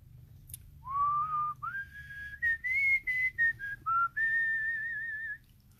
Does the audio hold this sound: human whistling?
yes